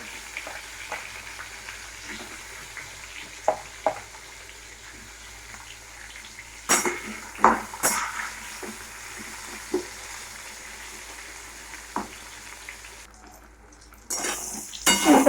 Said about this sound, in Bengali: বেগুনগুলো হালকা ভেজে নেবো